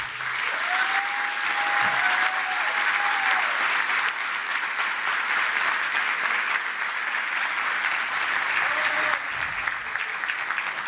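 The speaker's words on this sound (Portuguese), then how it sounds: "a amada mãe, Neuza José de Andrade Medronho, a quem peço uma salva de palmas" Sustained audience applause at a university rector's inauguration ceremony, a steady, full crowd of clapping lasting about eleven seconds, with faint voices underneath.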